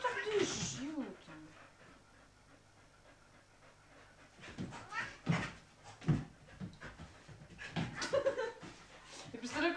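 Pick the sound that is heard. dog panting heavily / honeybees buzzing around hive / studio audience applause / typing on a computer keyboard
dog panting heavily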